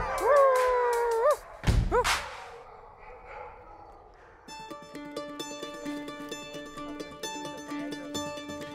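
Several sled dogs howl together in Alaska, long rising and falling wails layered loudly over each other, then a short burst and a quieter stretch with a steady musical backing under scattered yips.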